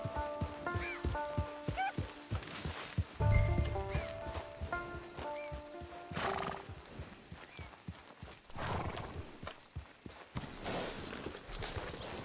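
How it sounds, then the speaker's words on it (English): Hooves clip-clop at a walking pace in the video game Red Dead Redemption over a soft musical backdrop, steady and moderately close, with light ambient patter. "It's your horse."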